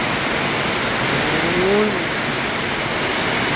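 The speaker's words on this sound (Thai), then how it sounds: "ดูสิตกหนักเหลือเกิน ตกจริงตกจัง" Heavy rain pours down while floodwater rushes along a street, making a steady, loud broadband hiss with no pauses.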